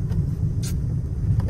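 Steady low road-traffic rumble from cars and vehicles in congested Thane streets, continuous and fairly close, with a brief higher hiss midway and no talking.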